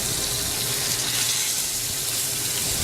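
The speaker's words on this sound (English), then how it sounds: "You want a hot pan, so when you sear, you get a nice sear on it." Pork loin sears in hot oil in a pan, giving a steady, dense, close sizzling hiss that holds at an even level throughout.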